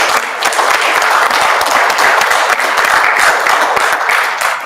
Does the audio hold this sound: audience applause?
yes